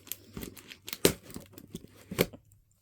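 A manga parcel box is opened with scissors, with short bursts of tearing and crinkling cardboard and tape, a couple of louder rips, then quiet at the end.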